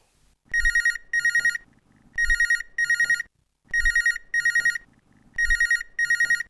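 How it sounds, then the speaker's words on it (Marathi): A telephone rings in repeated double bursts during a radio phone-in programme, four pairs of shrill electronic trills separated by short pauses, loud and close. "आता एक आपल्याला फोन कॉल आलेला, तो आपण घेऊया"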